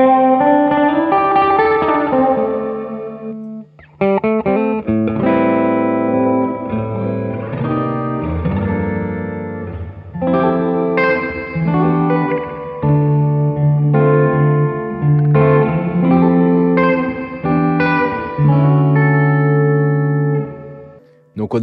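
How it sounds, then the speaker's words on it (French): Guitar notes played through a delay pedal on a pedalboard, each phrase trailing off in washy repeats that blur together almost like reverb. "on a un délai qui fait presque reverb"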